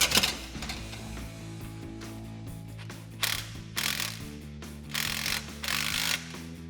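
A ratchet with a 16mm socket tightens an exhaust clamp on a 2021-2022 Ford Bronco cat-back exhaust, giving close, rapid clicking bursts that repeat in short strokes with brief pauses.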